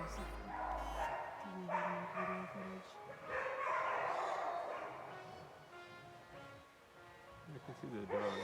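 Hunting dogs bark and yip over a wooded ridge in the Missouri Ozarks, moderately distant and continuous, under nearby outdoor noise and some talk.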